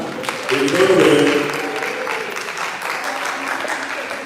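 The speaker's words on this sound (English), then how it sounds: "Please clap for Capstone 1" Audience applause for a student capstone presentation at a neuroscience school session, a dense wash of clapping that swells early and then holds steady, with some voices mixed in.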